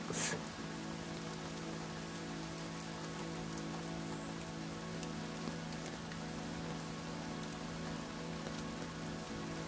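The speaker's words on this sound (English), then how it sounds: "Listen to the rain tumbling from above, creating the familiar sound that every Moshi loves." Steady rain falls on a surface in an unbroken, even hiss of dense drops with no talk, soft and constant throughout.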